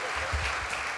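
A concert audience applauds a performer at an anniversary show, a brief dense wash of clapping with a low murmur of voices beneath.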